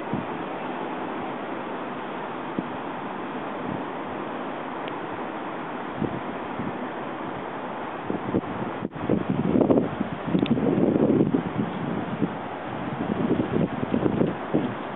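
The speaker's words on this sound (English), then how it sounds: "the wind's blowing" Wind buffeting a microphone outdoors at night, a continuous rough rumble that swells in louder gusts toward the end, with no talking.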